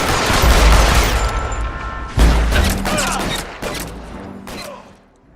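Loud bursts of gunfire in a L.A. Noire shootout, a heavy volley at the start followed by several sharper separate shots that taper off and fade toward the end.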